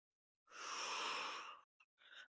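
A long, loud breath during a mat Pilates workout, rushing and airy for over a second, followed by two shorter, softer breaths after a brief pause.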